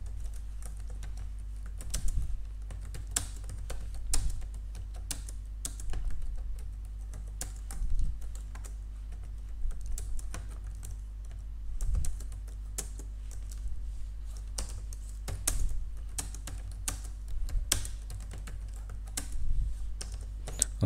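Steady typing on a computer keyboard, quiet irregular clusters of key clicks spread across the whole stretch, close and alone, over a low constant hum.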